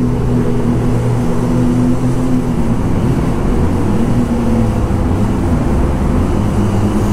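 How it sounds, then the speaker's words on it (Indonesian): Motorcycles roar loudly inside a tunnel in Japan, a dense, echoing engine drone with shifting low tones that fills the space throughout. "kalau terowongan gini suara motor yang lain juga pada kenceng"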